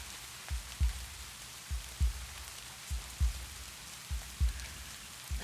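Rain falling during a rainy scene, heard as a soft hiss with a series of dull, regular low thumps recurring about every second.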